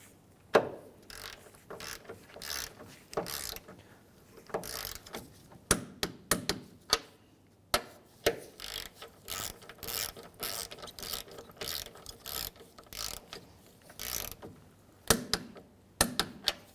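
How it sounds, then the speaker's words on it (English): Ratchet wrench torquing 15 mm strut bolts on a 2015-2019 Hyundai Sonata strut and spring assembly, sharp repeated clicking bursts in uneven runs, close and fairly loud with brief pauses, no talking. "We're going to torque these 3 bolts down to 45 foot-pounds"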